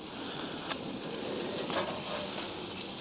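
Beef tri tip searing on a Workhorse Pits 1975 smoker with a Cowboy feature, a steady close hiss and crackle of sizzling fat, with a few brief pops and no talking.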